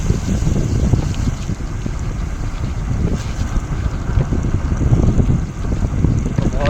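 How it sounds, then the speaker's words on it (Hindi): Strong wind buffets and rumbles across the microphone beside the Betul–Indore highway, gusting steadily for several seconds with low roaring bursts. "ठंडी ठंडी बहुत ही प्यारी हवा चलती है।"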